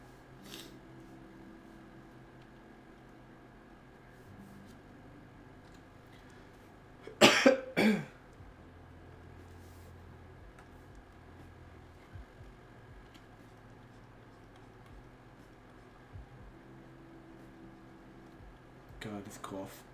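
Two sharp coughs burst out in the middle of a quiet room with a faint hum, followed much later by a brief softer noise.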